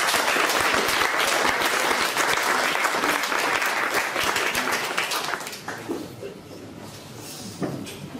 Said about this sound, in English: We give another round of applause.